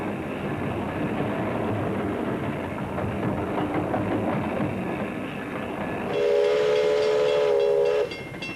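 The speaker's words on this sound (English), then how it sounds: "riding on a steam train like this" A steam train runs along mountain rails in Tasmania with a steady rolling rumble and rhythmic clatter, then a loud, sustained shrill whistle sounds for about two seconds near the end.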